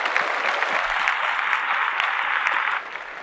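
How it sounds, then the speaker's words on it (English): Applause in a podcast setting, a short, dense, bright wash of clapping that holds steady and then drops off slightly toward the end. "Clap that up again."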